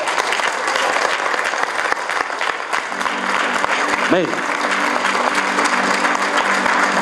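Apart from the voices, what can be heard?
congregation applause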